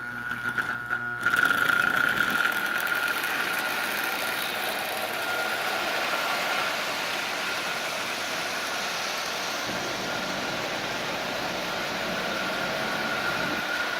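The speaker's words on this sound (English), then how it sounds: "this engine is actually running really, really well" A Marx 999 toy train engine runs steadily around a layout pulling ten Lionel cars, a continuous whirring electric motor hum with rattly mechanical buzz after an opening clunk, close and even throughout with no talking.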